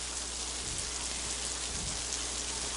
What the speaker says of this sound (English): I've really never seen rain and a game go on with rain coming down like this.